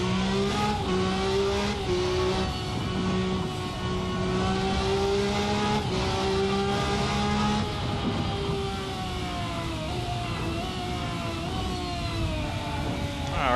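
A race car engine in a sim racing game holds fairly steady revs with tonal whine and gear-like pitch shifts, continuous and up close, with the note dipping and climbing slightly over time.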